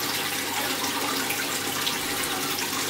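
Tap water pouring steadily during an aquarium water change, a constant hissing splash at even loudness with no voices.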